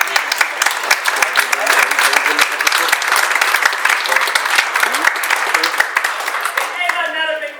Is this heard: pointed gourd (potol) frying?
no